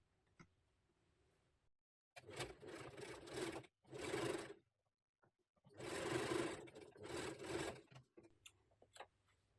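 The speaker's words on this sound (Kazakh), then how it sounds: "Енді мына кішкене ашық жерін сыртынан тігіп жібереміз." A sewing machine stitches the outside seam of a fabric turban, running in several loud bursts of rapid whirring with short pauses between them and no talking.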